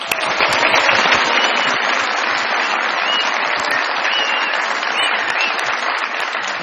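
Loud, steady applause from a large crowd, dense clapping that holds at an even level for several seconds.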